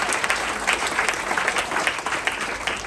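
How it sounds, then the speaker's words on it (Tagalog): Church congregation breaks into loud, dense applause, a continuous wash of many hands clapping close and full for a few seconds. "Malakas po na palakpak para kay Jesus."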